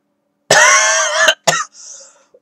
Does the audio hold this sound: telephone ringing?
no